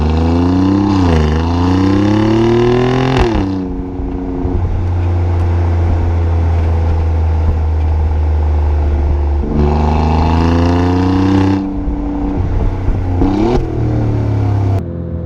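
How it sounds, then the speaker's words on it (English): Alfa Romeo Giulia Quadrifoglio V6 engine revving hard in a loud, deep growl, its pitch sweeping up and settling across two bursts of acceleration with quick gear changes and a steady cruising drone between them. "Such a deep growl V6"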